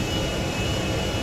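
An airplane's jet engine in GTA V, a loud continuous roaring whoosh that stays even and close across the short stretch.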